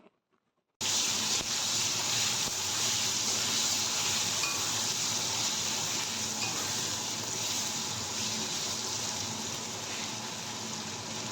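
Potatoes and chopped tomatoes frying in a pan give off a continuous, close sizzle that starts abruptly after a brief quiet moment and holds steady, with faint stirring underneath and no talking.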